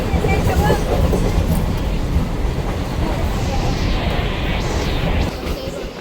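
A suburban local train runs between Vasai and Virar stations, a close, steady rumble and rattle of wheels and carriages that holds at an even loudness throughout, easing slightly near the end.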